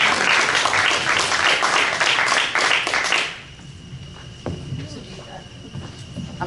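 Audience applause at a Q&A forum for Dr. Norris, loud dense clapping that cuts off abruptly partway through, leaving quiet room noise with faint scattered sounds.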